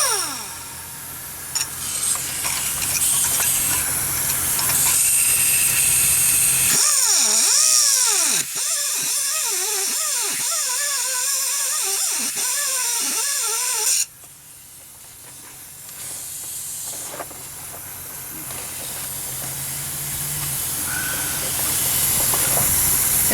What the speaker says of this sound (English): once you cut into the centering bolt a little bit, snatch and grab, break it off